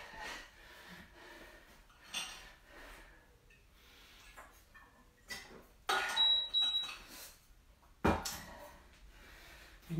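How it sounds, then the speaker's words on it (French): A brief electronic workout timer beep chirps once amid shuffling, thumps and heavy breathing during a home exercise session. "ça va biper"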